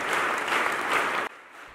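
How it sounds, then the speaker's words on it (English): A church congregation of the Phaneroo ministry claps non-stop at a record-breaking event, producing a dense, loud wash of applause that cuts abruptly to quieter crowd noise near the end. "clapping non-stop for the entire duration of the record-breaking event"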